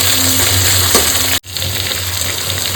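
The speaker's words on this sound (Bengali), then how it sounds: "সমস্ত কিছু একটু ভালো করে কষাবো পেঁয়াজটা যতক্ষণ না নরম হচ্ছে।" Onions with salt sautéing in a pan give a loud, close, continuous sizzle, broken by one abrupt momentary gap before the frying resumes.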